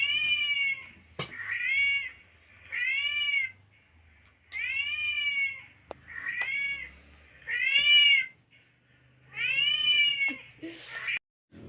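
A cat meows repeatedly at a phone playing a kitten video, giving about eight drawn-out, rising-and-falling calls close by in a quiet room, with short pauses between them and no talk.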